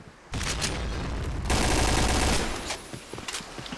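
Sustained bursts of automatic gunfire from the first-person shooter Piercing Blow during a tournament final match, loud and dense, with a brief lull and then a second heavier barrage, tapering into scattered shots at the end.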